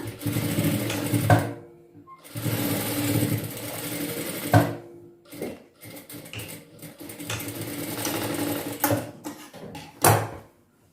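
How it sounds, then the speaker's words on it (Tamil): A tailoring sewing machine stitches the shoulder seam of a six-piece chudidhar top, running in loud whirring bursts of a few seconds each, broken by pauses and clicks as the fabric is adjusted. "இப்போ நான் ஒரு தையல் போட்டு காட்டுறேன்"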